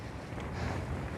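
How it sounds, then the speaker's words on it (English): Strong wind roars and buffets steadily at night on an exposed Borders hillfort, a dense, unbroken rush close to the microphone. "Listen to the winds."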